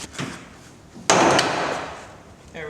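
A Ford F-150 tail light clip pops loose with a sharp plastic snap, followed by a scraping rattle as the lamp pulls free, with a smaller knock just before it.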